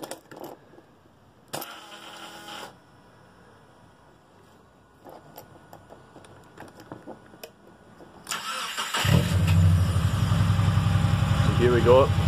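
A Subaru 2.5 engine fitted in a VW T25 van cranks and fires near the end, settling into a loud, steady idle after a quiet stretch of faint clicks and rattles.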